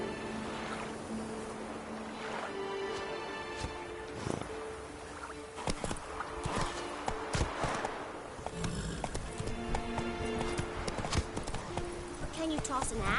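Roach, the horse in The Witcher 3: Wild Hunt on PS5, trots with a steady, close clip-clop of hooves over a wash of water and surf, while voices talk over it.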